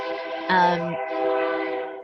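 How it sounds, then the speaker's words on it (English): A train sounds a long, steady, multi-tone horn outdoors in a city, fairly close and dominant for about two seconds with a brief lower tone partway through. "Trains."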